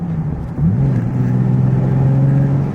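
A Nissan 370Z Nismo engine blipping as it downshifts from third into second, a brief dip and then a loud, steady low drone heard from inside the car with no talk.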